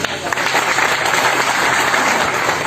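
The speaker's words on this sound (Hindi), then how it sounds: "जोरदार ताली बजा के" Loud crowd applause at a political party workers' gathering in Lucknow, dense clapping that starts with a few sharp claps and swells into a steady roar, close and full.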